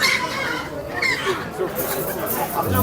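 Roosters and hens cluck faintly amid a busy, noisy chicken market in Tuzla, Istanbul, with steady crowd chatter and voices throughout.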